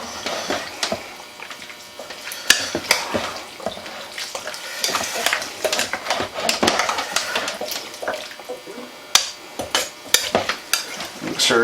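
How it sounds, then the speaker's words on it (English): Beef broth is stirred into a Guinness beef stew in a pot, with loud, close scraping, sloshing and clanks of the spoon against the pot, and the liquid sizzles between strokes. "And we're going to go ahead and put in the beef broth. Get it all good and stirred up here."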